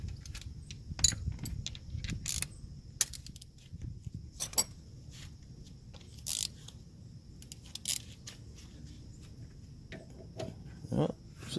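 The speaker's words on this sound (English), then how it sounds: "We're gonna start with removing the caliber bolts, which, like I said, are 13 millimeter." A ratchet works loose the 13 mm brake caliper bolts on a car, giving faint scattered clicks, metallic ticks and clinks. Quiet pauses and low rumbling background noise fall between them.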